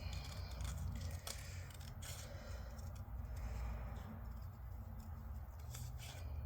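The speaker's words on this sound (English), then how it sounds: "Just doing a little bit of fussy cutting here." Scissors snip paper in close, fussy cuts for a paper gift bag folio, a quiet run of small crisp clips and rustles with no talking.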